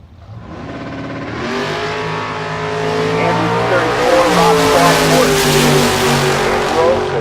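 Drag race cars, a Firebird and a tuned fuel-injected Camaro, launch at a bracket race shootout, engines climbing loudly through rising revs with tire noise, building to a sustained roar that fills the whole stretch.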